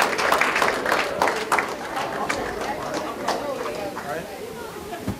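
A school audience claps and cheers to welcome a guest speaker onto the stage, a loud crowd ovation with scattered voices and chatter mixed through it that gradually eases off.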